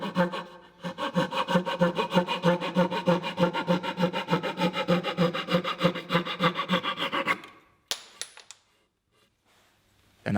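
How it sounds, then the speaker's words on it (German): A flush-cut dowel saw trims protruding wooden ends flush with a drawer surface, giving about seven seconds of steady, close, rhythmic back-and-forth rasping strokes that stop abruptly, followed by a few light knocks and handling clatter. "Die überstehenden Enden schneide ich mit einer Dübelsäge exakt bündig."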